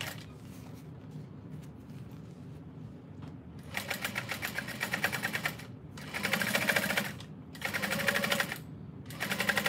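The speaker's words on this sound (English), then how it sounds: "And then fold over the edge and top stitch." Sewing machine top stitching along a folded fabric edge on a small bowler bag, heard in several fast rattling bursts of needle strokes separated by brief pauses, fairly quiet and close.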